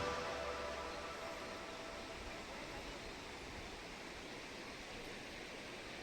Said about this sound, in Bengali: চারদিকে পাহাড়, মিডলে ঝর্ণা জল বয়ে যাচ্ছে